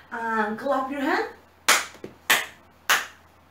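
Children singing a song give way to three sharp, loud hand claps, evenly spaced about half a second apart with quiet gaps between them.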